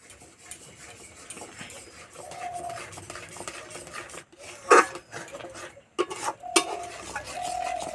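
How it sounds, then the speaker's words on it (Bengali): A metal spatula scrapes and stirs a sticky semolina mixture around a wok, rasping in uneven strokes close up, with a few sharper clatters against the pan and quiet gaps in between. "কড়াই যে ধারে লেগে যাচ্ছে, খুন্তি করে এইভাবে চেঁচে নিতে হবে"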